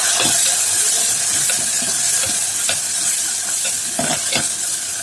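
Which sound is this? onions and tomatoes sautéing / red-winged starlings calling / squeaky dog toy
onions and tomatoes sautéing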